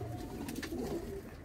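Pigeons in a home loft of high-flying Kalodana and Andhra birds give soft, low, continuous cooing, faint and close, with no voices over it.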